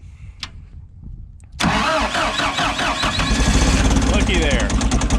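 A small engine with a freshly primed fuel bulb cranks and fires up, catching abruptly after a quiet stretch and settling into a loud, rough, steady run with a voice speaking over it.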